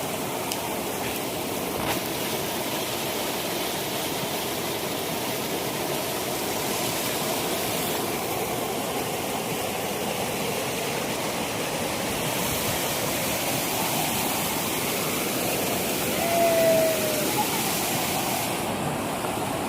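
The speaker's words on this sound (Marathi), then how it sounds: "हा इथे धबधबा आहे खाले." A waterfall at a village dam in Konkan roars in a continuous, dense rush of falling water, steady and enveloping throughout.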